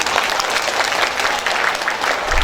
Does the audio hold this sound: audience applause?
yes